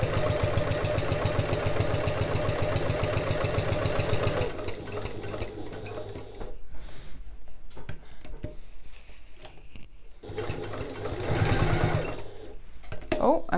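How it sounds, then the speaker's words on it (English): A sewing machine runs a long basting stitch along a quarter-inch seam on a fabric bag, a steady rapid whir for about four seconds, then shorter bursts of stitching between pauses, with a person talking. "I'm just going to sew at a 1/4 inch seam allowance"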